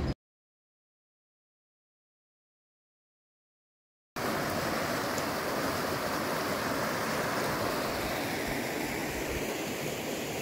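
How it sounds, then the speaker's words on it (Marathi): Water of the Narmada river rushes and gurgles in a steady, dense broadband wash that begins abruptly after about four seconds of silence and continues unbroken. "इकडे एकदम खळखळ खळखळ वाहते"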